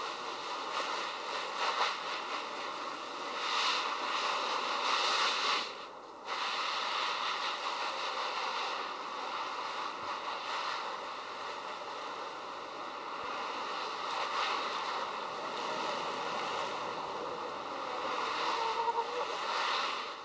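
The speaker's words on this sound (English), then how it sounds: "So we're going to wet this all down right now." A garden hose sprays water steadily over newspaper laid in a garden bed for no-dig potatoes, a continuous hissing wash that runs close and fairly loud for the whole stretch, with a brief break around the middle.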